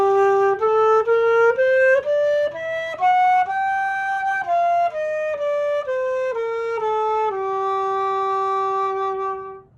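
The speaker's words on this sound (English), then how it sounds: "So the melodic minor sounds like this." A single melodic instrument plays a melodic minor scale slowly, stepping up note by note and back down, each tone sustained and clear with short gaps between, ending on a long held note that fades out.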